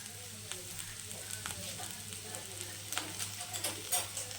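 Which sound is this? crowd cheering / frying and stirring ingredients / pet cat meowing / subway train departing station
frying and stirring ingredients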